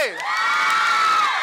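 A crowd of college students at AVK College, Davanagere, cheers and whoops loudly in a sustained rising shout that fills the space. Individual clapping is hard to pick out.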